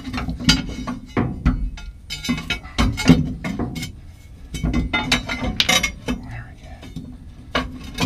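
A scrap piece of quarter-inch steel is handled near a Dodge Cummins truck, making sharp metallic clinks and knocks in irregular bursts, close and fairly loud.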